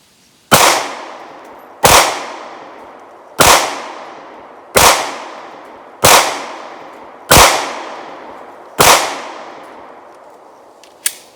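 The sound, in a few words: Taurus G2C pistol shots at the range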